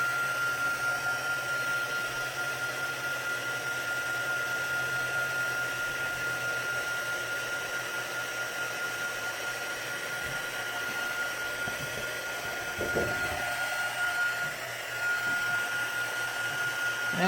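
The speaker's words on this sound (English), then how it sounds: "Let me warm up my heat tool, get it to come to temperature." A crafting heat tool hums as it warms up to temperature, a steady, moderately quiet blowing whir that runs unbroken throughout.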